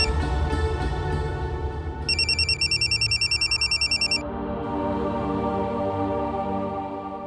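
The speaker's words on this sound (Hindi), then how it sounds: "आपका फोन।" A telephone rings with a bright electronic trill in repeated bursts for about two seconds, over a background of steady music.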